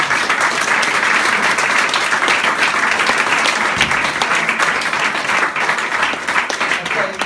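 Sustained round of applause from a gathered group of parents and players at a boys' sports team trophy presentation, loud and steady throughout with dense overlapping claps and no speech over it.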